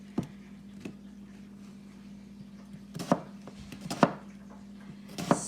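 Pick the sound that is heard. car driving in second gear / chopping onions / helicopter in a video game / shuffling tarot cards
chopping onions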